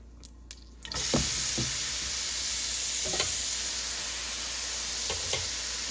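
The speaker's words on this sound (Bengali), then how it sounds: "তো এই যে গাজরগুলোকে আমি ভালো করে ভেজে নিচ্ছি, বেশি করে ঘি দিচ্ছি।" Boiled carrots hit hot ghee and a loud, steady sizzle takes over, with occasional spatula scrapes and clinks as they fry in a pan.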